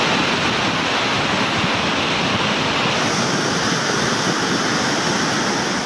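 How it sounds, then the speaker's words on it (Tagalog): Floodwater rushes down the Poncian River from Mount Canlandog in Murcia, Negros Occidental, a loud continuous roar that stays steady throughout, with no voices. "makikita ang matinding pagragasa ng tubig baha mula sa Mount Canlandog, Poncian River ng Murcia"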